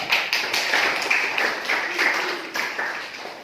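Students in a classroom clap for a classmate, a short burst of moderately loud, uneven hand claps with a few sharper slaps standing out, fading toward the end.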